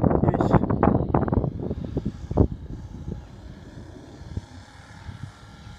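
Radio-controlled Hangar 9 P-47 model airplane with a Saito engine coming in to land with full flaps, its engine drone loud at first then easing to a steady hum amid wind noise, with a sharp thump partway through.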